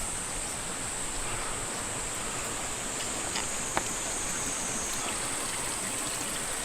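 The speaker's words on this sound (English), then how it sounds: "tons of water flowing from all different directions in this town." Water streaming and splashing steadily through channels in Tsumago, a Japanese post town, a continuous broadband rush that stays even and close throughout with no voices.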